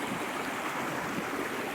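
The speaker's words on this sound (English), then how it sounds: "I'm down at Buck Creek, and just downstream it flows into Steele's Creek." Buck Creek in North Carolina's Pisgah National Forest rushes along in a close, steady broadband hiss of flowing water, unbroken and alone for a brief moment.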